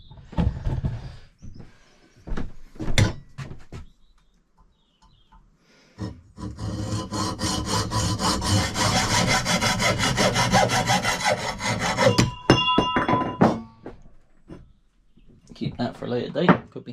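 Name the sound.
hand sawing a straight cut through a part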